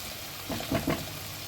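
A spoon stirs eggplant moussaka frying in a pan with salt and sugar, giving a few quick scraping strokes over a soft, steady sizzle at moderate distance.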